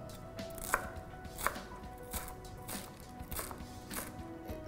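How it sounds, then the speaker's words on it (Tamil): A knife chops fresh coriander leaves on a board, a run of quiet close taps with a couple of sharper strikes and no talking. "அப்புறம் கடைசியாக கொஞ்சோண்டு கொத்தமல்லியும் நறுக்கிக்கும்."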